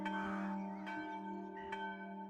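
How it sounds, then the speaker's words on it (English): Deep-throated church bells ring at a funeral in a church, sustained tolling tones with faint strikes recurring about every second, steady and moderately distant with no voices. "never will the deep-throated sound of those bells quit my ear"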